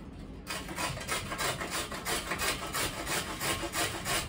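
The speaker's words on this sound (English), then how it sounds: "All right, so I'm just gonna grate this. I could chop it really small, but carrots are pretty hard." A hard raw carrot rasped against a grater in a steady back-and-forth rhythm, about eight quick strokes, close and fairly loud with no talking.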